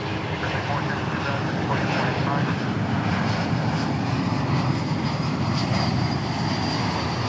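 Airliner in special Piedmont livery passing at Dallas Fort Worth airport, a loud, sustained engine roar and rumble throughout, with people talking over it.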